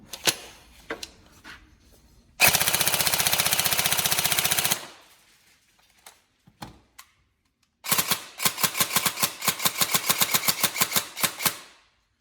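A Tokyo Marui 417 NGRS airsoft rifle, upgraded, emptying a full speed loader in two long bursts of rapid mechanical clatter, loud and close, separated by a pause with scattered clicks and handling noises.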